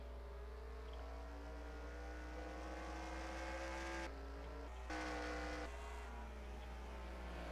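Race cars from the NASCAR Racing 2003 game roar past at Thompson, a steady layered engine drone with pitch shifts as the field flies by, loud and continuous for several seconds.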